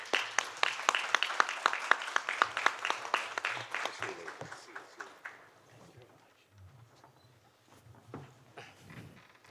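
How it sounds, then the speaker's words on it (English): Audience applause closing a conference session on the Korea-US alliance: a burst of loud, rhythmic clapping that thins out after a few seconds into scattered claps and quieter room noise. "I will let you go with big applause."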